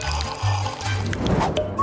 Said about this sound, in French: Oh, c'est une énorme fontaine.